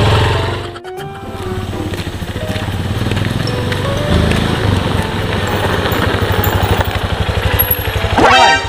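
A new motorcycle engine idles loudly and close, a steady throbbing rumble that revs briefly near the end.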